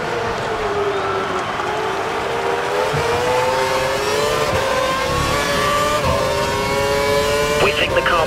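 A Formula One race car in F1 2012 at the Montreal circuit holds a loud, sustained high-revving engine scream, its pitch rising slowly and steadily. Faint tyre and gearshift noise sits underneath.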